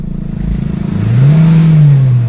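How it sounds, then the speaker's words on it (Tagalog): A 2017 Hyundai Tucson automatic, recently showing fault codes P2102 and P0123, idles with a throbbing engine, then revs up into a loud, steady high-rpm drone that holds before starting to ease back. "At ngayon po, itry lang muna nating i-rev."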